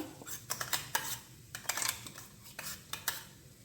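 Rice grits fried and stirred in a pan for carrot rice kheer, giving repeated scraping clinks of a spoon against the pan in an irregular rhythm, close and moderately loud, with a faint sizzle beneath.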